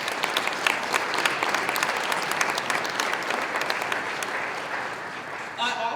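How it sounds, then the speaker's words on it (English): Audience at a Dr. Martin Luther King, Jr. memorial breakfast applauds, steady dense clapping from a crowd indoors that fades near the end as a voice begins. "Can we just give a round of applause for all of them?"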